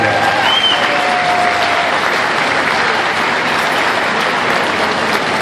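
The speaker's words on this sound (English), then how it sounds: "Let's give them a round of applause." An audience at a museum fundraising gala breaks into loud, dense applause that carries steadily throughout, with a faint whistle rising early on.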